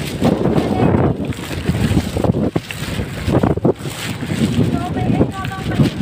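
Gusty wind buffets the microphone with a steady low roar in a park, while people talk and laugh nearby.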